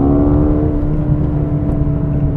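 A 2021 Mercedes-AMG A35 hatchback's engine and exhaust heard from inside while driving, a steady, loud droning hum with a constant low tone and no sharp revving changes.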